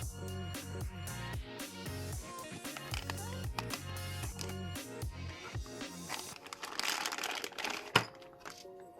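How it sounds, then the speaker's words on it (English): Bubble wrap being cut open and unwrapped from around a Team Infinity Katana 512 nitro race engine, with close crinkling, crackling plastic and scattered taps and snips, louder rustling toward the end. "In our bubble wrap. Let's cut it open and start the adventure."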